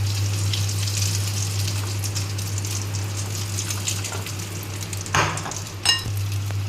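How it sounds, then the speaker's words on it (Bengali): Soybean muitha dumplings fry in hot oil with a continuous, even sizzle over a low electrical hum. Two sharper scrapes or clatters of a utensil break in near the end. "এই যে আর কটা আছে এইবারে ভেজে নেব ওই একইভাবে মুইঠা"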